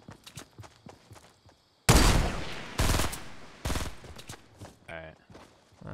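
Gunfire in the Fortnite video game, loud close bursts of rapid shots in several volleys with quieter footsteps and clicks between them, as players talk over the action.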